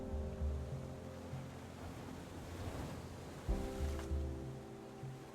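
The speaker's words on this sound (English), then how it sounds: "Here's the edge of the ocean." Ocean waves at the shoreline in the game BitCraft Online wash in a soft, steady surf under looping background music, with a slightly stronger surge partway through.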